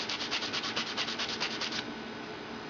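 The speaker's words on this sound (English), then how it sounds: "The next thing I'm going to do is just lightly sand the surface here." A steel arrow broadhead is lightly sanded by hand in quick, even back-and-forth strokes of rhythmic scratchy rubbing that stop partway through, leaving quiet room tone; close and fairly soft, with no voices.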